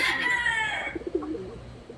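A twice-winning Lemon Red gamecock rooster crows once, loud and near, in a strained call that fades within the first second, followed by softer low clucks and backyard stillness.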